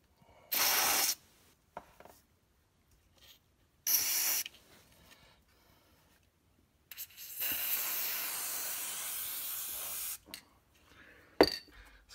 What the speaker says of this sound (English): First we'll put a little lubricant.